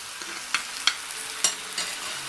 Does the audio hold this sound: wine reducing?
yes